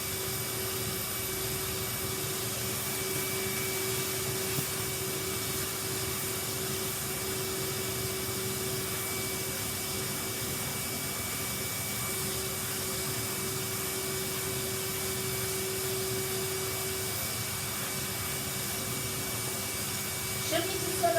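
A vacuum cleaner drones steadily and loudly as it hoovers a Persian silk carpet, with a constant hum and hiss throughout.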